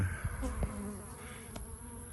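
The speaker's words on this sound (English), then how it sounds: "This just allows bees to get out and be able to return back to their hive" Honey bees buzz steadily around a hive entrance in a cow pasture apiary, a continuous close hum with a few brief louder passes as individual bees fly near.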